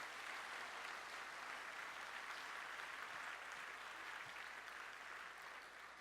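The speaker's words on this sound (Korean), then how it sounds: "서로 한번 크게 격려의 박수 해주십시다." A church congregation applauds steadily and loudly at a 2018 world mission conference opening worship service, a dense unbroken wash of clapping filling the whole stretch with no pause.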